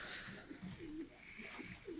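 Racing pigeons cooing nearby in soft, repeated low throaty phrases, several overlapping calls over a faint hiss of background noise.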